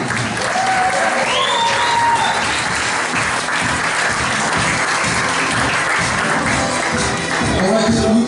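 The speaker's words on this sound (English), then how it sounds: "And let's do applause for the mom." Wedding guests applaud for the bride's mother, a loud, steady burst of clapping from a crowd that fills the whole stretch, with a few voices faintly mixed in.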